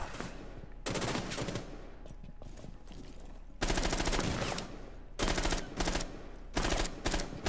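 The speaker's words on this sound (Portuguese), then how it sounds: "Tiro pro alto." Automatic gunfire in a shooting video game, several loud sustained bursts of rapid shots separated by short pauses, dense and close, with no one speaking.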